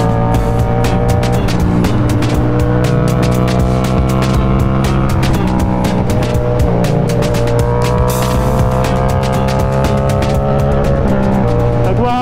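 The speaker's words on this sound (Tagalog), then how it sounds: "Tayo na ang ingay ng motor ko. Hindi ko marinig yung sinasabi ko." A loud, steady Yamaha MT-07 motorcycle engine drones continuously while riding, with rising and falling pitch as it revs and wind rushes past, close and constant throughout.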